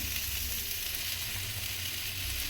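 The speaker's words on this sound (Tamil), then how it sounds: "நல்லா வறுபடணும், அது வதக்கணும்" Food fries and sautés in a pan with a steady, dense sizzle and a low crackling undertone. The sizzle is moderately quiet, with no voices.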